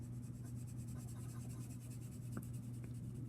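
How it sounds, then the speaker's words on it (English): An ebony pencil rubs across paper in quick circular shading strokes, a soft, continuous scratchy hiss close to the microphone over a steady low hum, with no talking. "because my pencil's getting dull, I can cover a lot of the paper"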